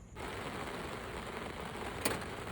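Steady rain pours outside a cafe in Baguio, a dense even hiss with a single brief sharp tap near the end, heard alone without talk.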